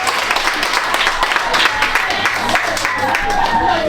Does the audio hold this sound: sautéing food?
no